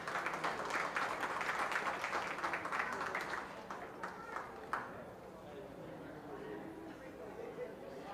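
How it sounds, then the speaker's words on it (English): Spectators at a county fair open beef show give a short round of applause that fades after a few seconds, leaving quieter crowd chatter and ring noise behind. "Give them a round of applause."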